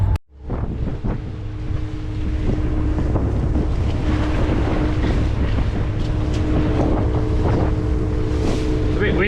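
Wind gusts against the microphone over a steady low engine drone, out on open water aboard a moving lobster-fishing boat.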